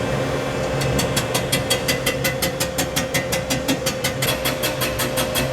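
Machine cutter taking a cut on a worn Chevy 348 W-series engine part at about 420 RPM, with a steady hum and a regular ticking chatter, about four strikes per second, close by.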